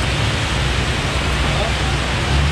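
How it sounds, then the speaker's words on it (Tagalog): Heavy rain from Typhoon Ulysses pours down near the Bakas River in Norzagaray, Bulacan, a loud, constant broadband hiss with no break from start to end. "Sobrang lakas ng ulan."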